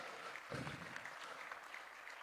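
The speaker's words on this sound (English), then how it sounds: "Please keep clapping for her." A quiet, distant round of applause for a poet at an annual conference, soft, diffuse clapping with a brief louder burst near the start.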